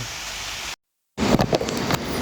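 A forest stream on Mount Slamet in the rainy season rushes with steady broadband hiss, briefly cut to silence, then resumes slightly louder with some splashing texture.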